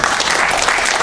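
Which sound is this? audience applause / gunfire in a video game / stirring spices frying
audience applause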